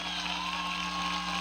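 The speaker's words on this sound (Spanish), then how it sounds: "Un aplauso" A crowd at a Mexican political rally applauds the people of Mexico, a continuous wash of clapping and cheering at steady volume alongside a humming drone, without anyone speaking.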